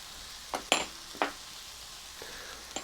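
Chili powder, flour and salt being stirred into a cornbread filling in a pan, heard as a few short scraping strokes spaced apart over a soft, steady background.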